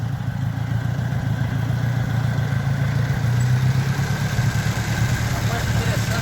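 A restored 1951 Ford 8N tractor engine idles steadily, a low, even mechanical rumble that stays constant and close throughout.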